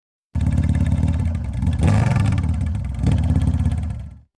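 A motorcycle engine roars up abruptly, revving harshly with a rattling, throaty tone, surging twice before cutting off.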